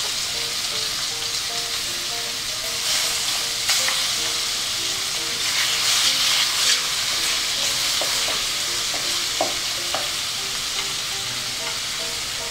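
Shrimp and squid stir-fry in a hot pan for seafood pancit canton, a steady loud sizzle with scattered spatula scrapes and stirring clatters throughout, and no talking.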